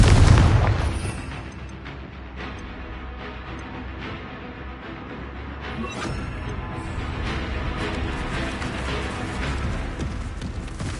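Booming spell explosions from Confringo and Bombarda in the video game Hogwarts Legacy: a heavy blast opens, followed by a sustained rumbling, crackling wash of repeated detonations at fairly steady loudness.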